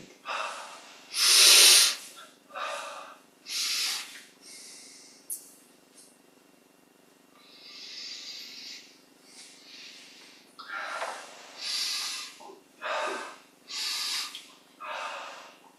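Slow breaths and exhalations during a guided yoga and meditation exercise, soft airy puffs and sighs repeating at irregular intervals, close and fairly quiet in an otherwise still room.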